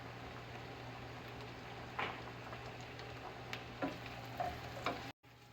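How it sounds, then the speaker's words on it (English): Mushrooms and diced white onions saute in bacon grease, a faint soft sizzle with a low steady hum and a few light clicks and taps of a utensil before a brief cutout near the end. "we're gonna add 2 cups of mushrooms and half a cup of white onions diced"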